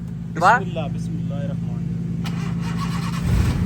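A Honda K24-powered AWD turbo car cranks briefly on its starter before settling into a steady idle hum, heard up close while people talk over it.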